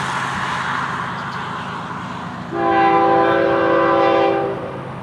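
Florida East Coast Railway train FEC109 rolls past with a low rumble, then sounds a loud sustained multi-tone horn blast lasting about two seconds before it fades.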